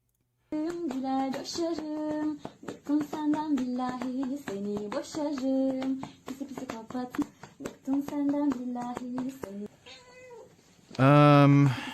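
A cat meows repeatedly in quick succession, close and fairly loud, over a running series of short cries. A longer, louder meow comes at the end.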